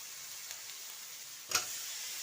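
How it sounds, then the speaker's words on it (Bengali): Potatoes sizzling in hot oil in a pan for okra curry, a steady quiet hiss with a sudden sharper crackle partway through as more goes into the pan. "দিয়ে এখন আমি এতে আলুটা দিয়ে দেব"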